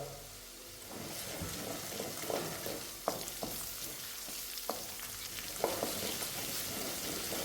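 Small onions fry in hot oil with crushed ginger and garlic for a soya chunk dish, a steady close sizzle with occasional sharp clinks of a spoon stirring the pan.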